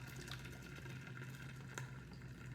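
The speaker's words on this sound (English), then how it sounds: "we're gonna basically pour it into our sanitized flask" Concentrated yeast-starter wort trickles and splashes into a sanitized flask, a quiet, steady liquid pour heard close up with no talking.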